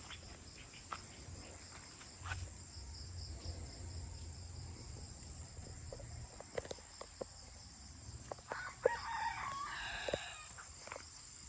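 A rooster crows in the distance, faint over a steady buzz of crickets and scattered clicks and knocks nearby.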